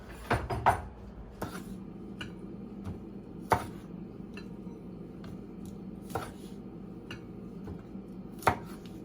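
A kitchen knife trims the stem ends off coiled fiddleheads on a board, giving a few sharp chopping taps scattered over a quiet background, with one cluster near the start and isolated cuts after that.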